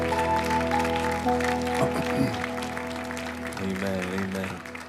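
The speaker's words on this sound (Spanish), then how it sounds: "Let's clap our hands to the Lord." A church congregation claps along through a worship service, a dense patter of hands under sustained music, with speech-like voices over it.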